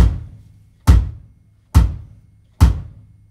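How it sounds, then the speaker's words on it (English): A bass drum struck by a foot pedal gives four deep, booming thumps at a slow, regular pace, each with a short resonant tail, close and solo. "And then down on the bottom with the foot,"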